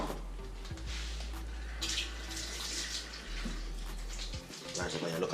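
Cooking juice from barbecue chicken pours off in a steady stream from a pot, splashing and trickling into a container, with a voice talking over it and a few clinks.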